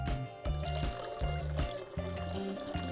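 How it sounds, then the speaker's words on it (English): Beer is poured into a pot of water for boiling hot dogs at a tailgate, a quiet trickling pour heard over a steady low hum. "You're going to pour a little bit of beer into your pot."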